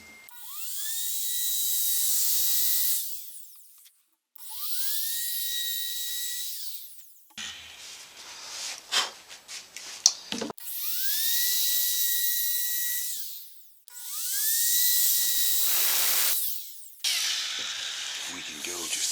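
Power tool, likely a router, making a deeper radiusing pass along a guitar fretboard, whining in several sustained high-pitched bursts that rise and fall, with clattering handling noise in between.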